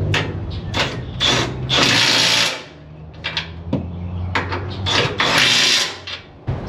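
Right-angle ratchet tightening a bolt in an auto repair shop, busy bursts of rapid mechanical clicking and whirring in two long runs separated by a brief lull, loud and close with clanks of metal.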